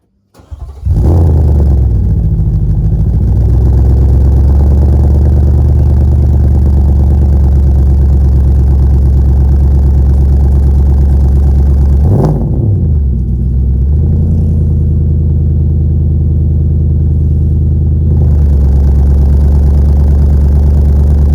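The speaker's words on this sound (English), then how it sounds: "Manta cold start." Opel Manta engine cold-starting, then settling into a loud, steady low idle that runs alone, with a brief rev blip midway before dropping back to a rumbling idle.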